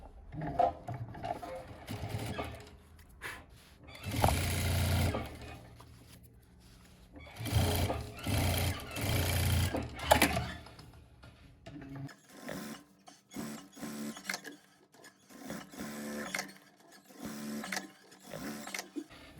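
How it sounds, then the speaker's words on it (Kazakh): A sewing machine stitches a pot holder made from fabric scraps, running in several bursts of rapid mechanical whirring separated by short pauses, with someone speaking between runs. "енді келесі жағын тігетін боламыз"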